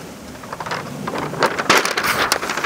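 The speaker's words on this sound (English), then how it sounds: "And the wind picks up, like always." Gusty wind blows outdoors beside an offset smoker, a broad rushing roar that swells and grows louder over a few seconds with no talking.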